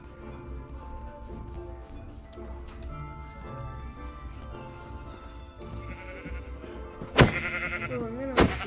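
Quiet background music plays in Minecraft, then near the end a sheep bleats twice, short and wavering, clearly above the soft backdrop.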